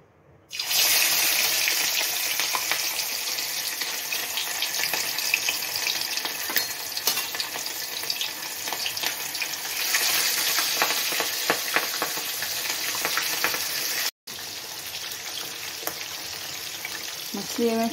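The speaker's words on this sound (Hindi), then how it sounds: "और ये कढ़ाई में तेल गरम भऽ गेलै, एहिमे हम ई माछ के फ्राई करब।" Fish fries in hot oil in a kadhai, a loud, continuous crackling sizzle that runs almost without a break apart from one brief dropout near the end.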